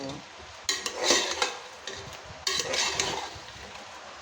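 Onions and tomatoes are sautéed in a pan for Usilampatti-style country chicken kurma, with two bursts of metal spoon scraping and stirring over a soft, steady sizzle, close by.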